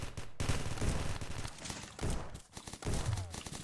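Several heavy Desert Eagle pistol shots ring out in a video game shootout, spaced apart with uneven rhythm amid faint background clatter, moderately quiet overall.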